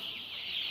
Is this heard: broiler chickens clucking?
yes